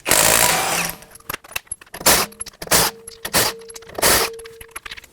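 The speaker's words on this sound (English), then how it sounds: "Using a 19mm socket, remove the 5 lug nuts." Lug nuts being spun off the rear wheel of a 2013-2017 Honda Accord with a 19mm socket, a loud burst of tool noise followed by a series of short metallic clicks, rattles and whirring bursts, close up.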